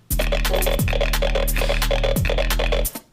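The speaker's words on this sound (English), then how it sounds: "that's definitely just like some really basic sound with a ring mod on it" A basic bass-music synth patch run through a ring modulator, buzzing loud and continuous with a deep droning low end and a metallic, rhythmically pulsing top layer that repeats in even bursts before cutting off.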